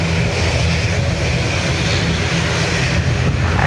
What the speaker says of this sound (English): Ryanair to Paris Bouvet.